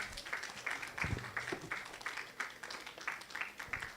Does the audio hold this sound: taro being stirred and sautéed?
no